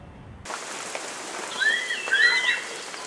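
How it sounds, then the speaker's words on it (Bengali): Steady morning rain falling outdoors in Delhi, a broad even hiss with bird chirps rising briefly in the middle. "দিল্লির বৃষ্টি স্নাত এক সকাল"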